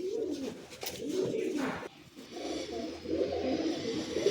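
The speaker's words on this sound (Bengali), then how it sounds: "খুব ভালো জেনারেশনের পায়রা আছে" A pigeon of good breeding coos repeatedly in low, rolling phrases, fairly close and steady over several seconds, with no talking.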